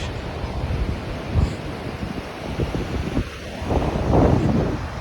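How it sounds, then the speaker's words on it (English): Wind buffets the microphone while waves wash ashore at Rishikonda beach in Vizag, a continuous rough rumble with surges of surf swelling louder near the end. "So this is other part of Rishkonda beach."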